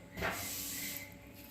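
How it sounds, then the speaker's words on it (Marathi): Jaggery boiling in a pan over a gas flame gives off a steady, close hiss with a brief louder surge near the start, then settles into an even sizzle with no talk. "हे बघा उकळलाय आहे हा गुळ"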